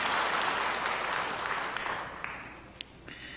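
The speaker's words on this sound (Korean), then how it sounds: "여러분들 환영의 박수 부탁드리겠습니다" Church congregation applauding to welcome visiting students during a Sunday worship service, a full burst of clapping that fades out over a few seconds, with a few scattered claps at the end.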